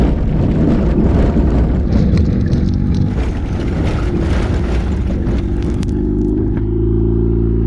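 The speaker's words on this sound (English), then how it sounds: "really put the foot to the floor and dropped the clutch" A car launching at full throttle with the clutch dropped, a loud, close engine roar with heavy wind buffeting on the microphone that settles into a steadier, lower drone near the end.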